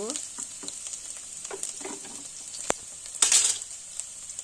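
Minced garlic frying in oil with cumin seeds for restaurant-style vegetable fried rice, a steady close sizzle with light stirring clicks and one louder crackling burst near the end.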